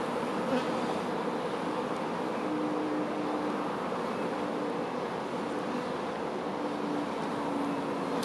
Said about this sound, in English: Bees will come up to her and they'll start drawing the foundation